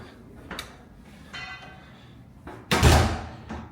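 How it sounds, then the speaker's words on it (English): A house back door opens with a few soft knocks and handle clicks, then a louder thud and rattle as it swings. The sounds are close and heard alone, without talk. "But coming in the back door"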